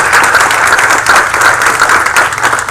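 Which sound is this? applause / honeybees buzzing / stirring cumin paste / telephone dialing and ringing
applause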